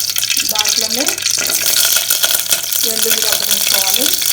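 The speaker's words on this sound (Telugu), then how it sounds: "మన చింతపండు చారు నేతితో తాలింపు వేసుకున్నాము" Garlic cloves fry in about two teaspoons of hot ghee in a heated pot for a tamarind rasam tempering, giving a steady crackling sizzle with stirring scrapes and light utensil rattles throughout.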